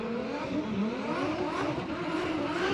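A Formula Drift car with a 2JZ engine revs hard during qualifying at Wall, a loud sustained engine note rising and falling in pitch, close and unbroken.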